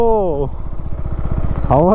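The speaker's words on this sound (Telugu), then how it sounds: "GT is the best bike ఇలాంటి ప్లేసెస్లో నడపాలంటే" A KTM 390 Adventure motorcycle engine idles and putters in a rapid, even rhythm, with a person talking at the start and end.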